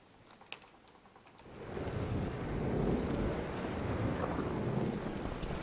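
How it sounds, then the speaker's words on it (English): Thunder rumbling through a rainstorm in The Witcher 2, starting as a faint crackle and then swelling into a sustained low, rolling roar that sits under steady rain for several seconds with no talking. "That was the lightning."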